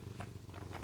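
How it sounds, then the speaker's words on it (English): Barry the cat purrs steadily in a lap, a soft, continuous low rumble held close and quiet throughout the short moment. "he's purring like a motorbike down here."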